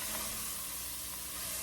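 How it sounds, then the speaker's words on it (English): Beef and vegetables sizzle steadily in a hot pan as they are stirred for a beef barley soup, a continuous bright frying hiss with soft scraping underneath and no talk. "I am just going to keep stirring this for that 3 to 5 minutes"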